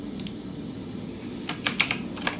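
Keys on a computer keyboard are struck in brief clicking bursts, a couple early and a quicker cluster near the end, over quiet room tone.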